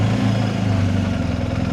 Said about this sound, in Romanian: De aici sunt motocicliștii.